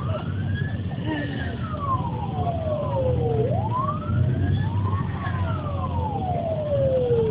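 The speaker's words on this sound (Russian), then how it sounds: "Уже скорая помощь едет." An ambulance siren wails with long rising and falling sweeps, loud and steady over a low rumble of street traffic, with the pitch shifting as it approaches.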